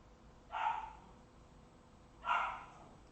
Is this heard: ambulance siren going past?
no